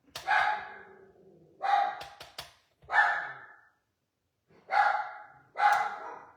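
A dog barks five times in separate bursts, close and fairly loud, with short silent gaps between barks.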